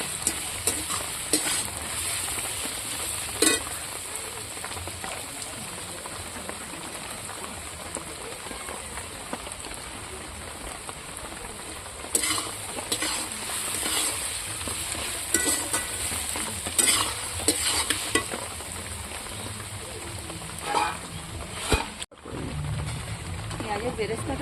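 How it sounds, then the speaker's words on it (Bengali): Steady crackling sizzle of onions frying on high heat for chicken biryani, with repeated spatula scrapes and stirring knocks in the pan throughout, close and sustained. "পেঁয়াজটা ভাজার সময় চুলার জালটা জোরে দিতে হবে।"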